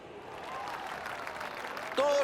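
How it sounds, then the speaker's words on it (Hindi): A crowd applauds athletes lined up for a race start, with running laps followed by a cycling race; steady, dense clapping fills the whole stretch, and a brief sharp tone cuts in near the end. "इन एथलीट्स को आज बजने वाली हर ताली की जरूरत है। इनका हौसला बढ़ाइए।"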